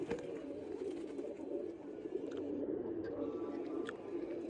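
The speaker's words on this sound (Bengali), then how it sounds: "দুই ভাইয়ের অনেক সুন্দর কবুতর" Pigeons cooing in a loft, a low steady chorus of overlapping coos close by, with faint bird chirps and a little background noise.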